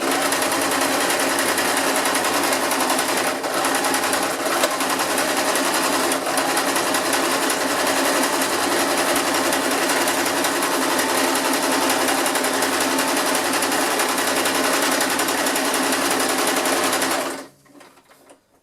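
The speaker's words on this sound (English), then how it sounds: "And then you just zigzag sew this down" A sewing machine runs at a steady fast hum, zigzag stitching back and forth across a strap for a foam shield, then stops abruptly near the end.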